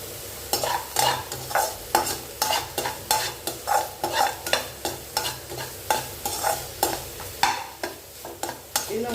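Snake gourd and carrot with grated coconut sizzle in a hot pan as a spoon stirs and scrapes them in a steady, repeated rhythm, close up and without talk.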